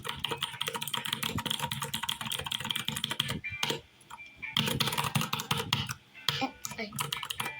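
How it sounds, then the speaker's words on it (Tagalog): Fast, dense typing on a newly ordered computer keyboard, close clattering keystrokes in bursts broken by brief pauses. "Nagtatype ako yun."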